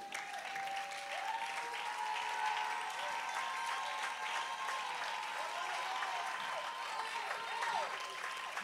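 A church congregation at a testimony service applauds in a steady, sustained wash of clapping that stays even and fairly faint throughout, with some cheering mixed in.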